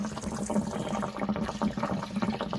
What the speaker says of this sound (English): the tank is draining